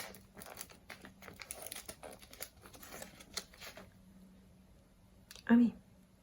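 Packet of rooibos tea with honey and flower petals torn open by hand, heard as close rustling and crinkling of the wrapping that fades out, followed by a short, louder vocal sound near the end.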